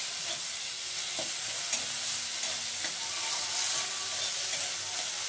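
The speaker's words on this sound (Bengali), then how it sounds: "টমেটোটা দিয়ে আবার এভাবে নাড়াচাড়া করে নিতে হবে।" Chopped medium tomatoes are stirred into a spice mix frying in a pan for a drumstick and mustard curry, a steady close sizzle with soft scraping stirs throughout and no voices.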